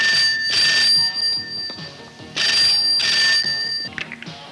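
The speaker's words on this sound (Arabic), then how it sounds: "انا اللي هرد على التليفون" An old-style telephone bell rings in a home setting, two loud bursts of ringing separated by a short pause, with a brief softer jingle at the end.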